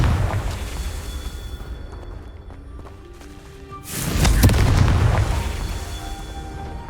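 Confringo fire spell blast in the Hogwarts Legacy video game: a loud, booming burst rises midway out of a rumbling, noisy battle backdrop and then fades into lingering rumble.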